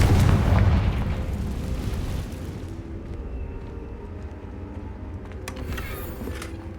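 A Confringo fire spell explodes in Hogwarts Legacy, a loud deep boom at the start that rumbles and fades into a lingering low roar with faint crackles, no voices.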